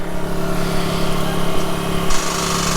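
A car engine cranks over and over on a flat battery at a bush track in the East MacDonnell Ranges, failing to catch. The whirring drone is steady and close, with no break.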